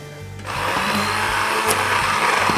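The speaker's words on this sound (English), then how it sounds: "then we'll take a stick blender and get this all blended out." A stick blender churns through nacho cheese sauce made from reconstituted freeze-dried cheese powder, starting after a short quiet moment and running as a loud, steady motor whir with slight rhythmic variation throughout.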